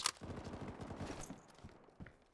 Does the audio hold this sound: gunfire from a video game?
yes